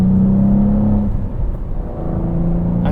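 A 2023 Cadillac CT4-V Blackwing with a manual gearbox hums steadily in tour mode at highway speed, its engine drone low and smooth with a slight rise in pitch near the end, close and continuous under road rumble.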